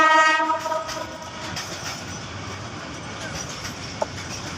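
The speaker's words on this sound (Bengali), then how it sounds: "তো এই ট্রেনটা বিশাল বড় ট্রেন, দেখতে পাচ্ছেন যে এটা দীর্ঘদিন চলছে।" A long freight container train passes, opening with a loud multi-tone horn blast, then a steady rolling rumble with faint clatter of wagons continuing as the horn fades.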